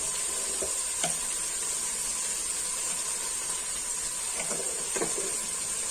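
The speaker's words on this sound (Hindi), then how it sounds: "ये धनिया पाउडर जीरा पाउडर डाल के थोड़ी सी मजीद भून लेते हैं" Cumin and coriander powder frying with beef qeema in a pan, a steady soft sizzle with faint stirring scrapes and a few light clinks, close and continuous with no talking.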